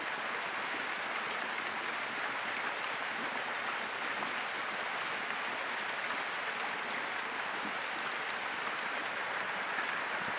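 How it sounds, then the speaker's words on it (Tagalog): Heavy rain pouring steadily at an outdoor test-dig site, a constant dense hiss of falling water, even and unbroken with no voices. "Napakalakas ng ulan."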